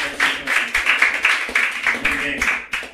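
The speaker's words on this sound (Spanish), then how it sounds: "Denle un aplauso al Señor." A church congregation applauds the Lord with loud, fairly close clapping in uneven surges, strongly pulsed rather than a smooth wash, and voices come through amid the claps.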